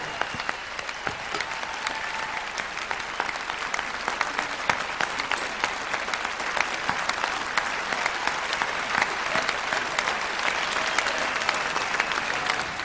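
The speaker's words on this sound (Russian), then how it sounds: "Я хочу, чтобы эти аплодисменты звучали настолько громко, чтобы их было слышно за пределами зала." Large audience at the Armenia Music Awards 2012 concert hall clapping in a loud, continuous wash of hands, with sharper individual claps poking through a steady dense roar for the full length.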